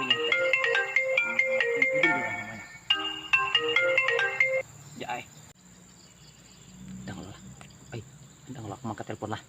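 A mobile phone rings with a bright, repeating melodic ringtone, two clear bursts that then stop, followed by quieter talk and background chirping.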